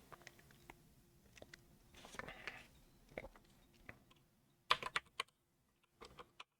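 Typing on a Redragon Brahmas K586 mechanical keyboard with brown switches: sparse, quiet key clicks and short clustered bursts of keystrokes, including a sharp flurry near the end, with no talking.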